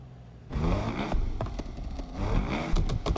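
A widebody Mazda RX-7 engine in the video game Need for Speed Unbound revs up and down with a rough, buzzy tone, throttle blips and gear changes in quick succession at close range.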